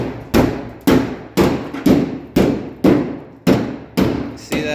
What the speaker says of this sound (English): I'm gonna hit that with a hammer and see how she comes apart.